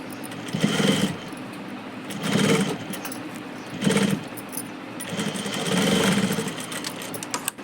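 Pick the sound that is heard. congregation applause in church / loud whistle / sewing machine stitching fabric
sewing machine stitching fabric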